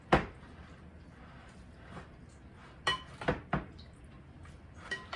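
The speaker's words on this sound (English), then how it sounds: "We're just gonna stir this all around." Thai style red curry sauce being stirred in a pot, giving a few scattered clinks and scrapes of a utensil against cookware, soft and close, with quieter stretches between the knocks.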